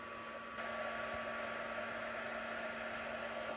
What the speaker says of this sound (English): I'm just using the heat tool to help speed up the drying process